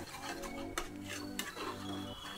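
Egg bhurji with green onions is stirred in a pan, a utensil scraping and tapping the metal with a couple of sharper knocks over a constant background hum.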